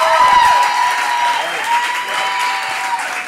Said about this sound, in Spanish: Aplausos para los chicos, para Mike, que respondió su primera pregunta shot.